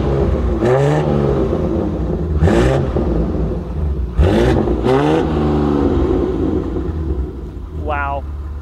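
A BMW S58 engine with a CNC cylinder head and an aftermarket exhaust idles with a steady low rumble. It is punctuated by four sharp throttle blips that rise and fall quickly, then a final brief rev.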